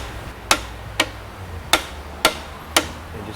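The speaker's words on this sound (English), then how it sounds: "The easiest way to get it out is get a pry bar and a hammer." Hammer tapping a pry bar wedged between a Subaru Crosstrek CV axle and the transmission, five sharp metallic taps spaced about half a second apart, close and alone.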